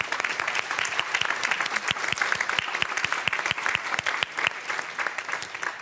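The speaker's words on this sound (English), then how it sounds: "I would invite you to give a round of applause to our speakers" An audience at a NATO youth summit gives the speakers a round of applause, a dense, steady wash of clapping with individual sharp claps standing out nearby.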